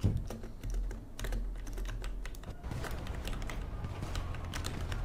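A computer keyboard clatters during a fast-paced action game, rapid bursts of close, crisp key clicks and heavy presses against a low background hum.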